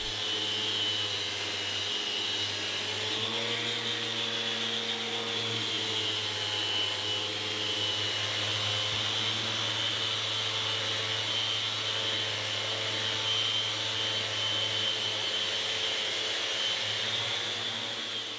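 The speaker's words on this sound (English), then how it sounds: "Then I stole my neighbor's fancy sander to blend it all back together and erase the lines from the belt sander." A borrowed floor sander smooths fir floorboards after belt sanding, giving a steady, continuous motor whine and drone that holds close and even throughout with no talking.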